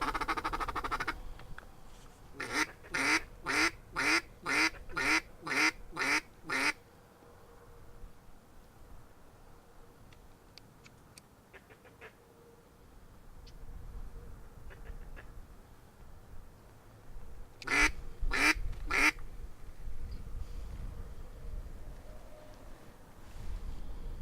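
Birds call outdoors in Texas with a rapid run of about eight sharp, evenly spaced squawking notes, a quiet stretch of faint background noise, then a shorter burst of three more calls.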